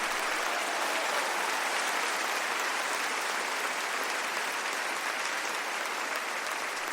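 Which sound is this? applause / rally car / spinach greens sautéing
applause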